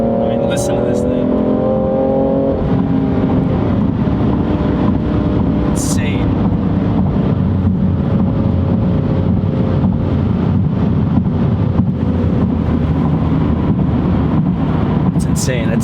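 A 2018 BMW M3 Competition Package engine drones loud and steady on the move, rising in pitch early on, with wind rush throughout and someone talking excitedly over it.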